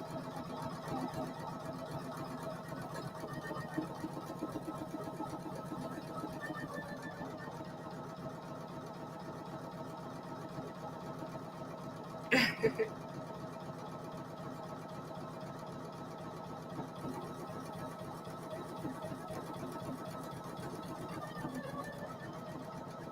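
A Poolin EOC06 single needle embroidery machine runs continuously, a steady rhythmic mechanical whir and needle chatter at close range, broken by a brief sharp clack partway through.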